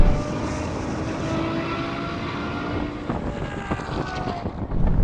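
A BMW M8 drag racing a Ferrari, a loud, steady engine roar with a broad droning hum that holds throughout, a few sharp clicks and knocks near the end, and no talking.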